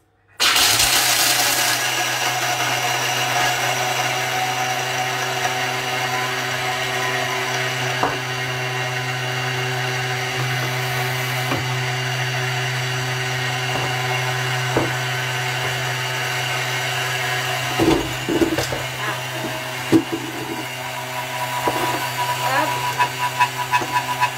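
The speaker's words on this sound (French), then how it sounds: "30 secondes, vitesse 9 pour mixer les noisettes pour en faire de la poudre" A food processor on speed 9 grinds hazelnuts into powder, a loud, steady motor whir with a constant hum that runs for the whole stretch, with a few clicks and knocks near the end.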